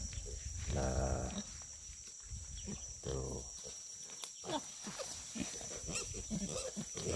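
Pigs at a farm pen grunt and squeal in short, irregular bursts, fairly close but modest in level, with some brief human speech mixed in.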